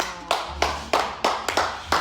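A handful of loud, sharp hand claps ring out at an uneven pace, close and alone, with short echoing tails.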